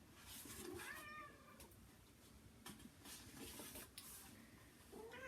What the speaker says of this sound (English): so you might hear him meowing a little bit.